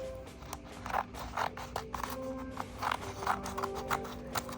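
Scissors snip repeatedly at a steady rhythm, trimming excess paper from a Memorial Day silhouette sunrise craft, close and fairly quiet.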